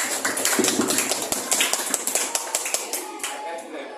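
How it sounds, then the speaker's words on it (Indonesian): Pupils in a classroom clap their hands together for a completed question, a close run of loud, rhythmic claps that grow sparser and softer toward the end. "tepuk tangan dulu untuk soal yang pertama"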